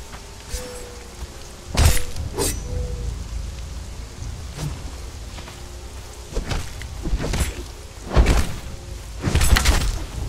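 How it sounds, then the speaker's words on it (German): Rain falls in the video game Conan Exiles, a steady soft patter broken by several louder splashing bursts of drops, heard alone without talk. "Hier regnet's ja."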